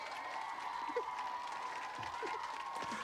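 A crowd applauds and cheers steadily through a played-back recording, with a few whoops rising over the clapping, moderately loud and continuous.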